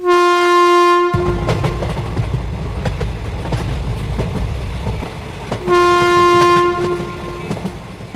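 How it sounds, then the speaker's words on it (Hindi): Cartoon train starting to move, with a loud sustained horn blast, then rumbling clickety-clack of wheels on rails and a second horn blast near the end. "ये लोग ये सोच ही रहे थे कि तभी ट्रेन शुरू हो जाती है।"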